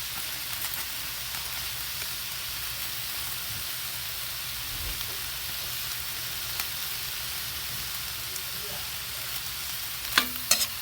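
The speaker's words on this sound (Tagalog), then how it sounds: "Haluin lang natin." Shrimp and mussels with oyster sauce stirred in a pan, giving a steady close sizzle with soft scraping and a couple of sharp clinks near the end.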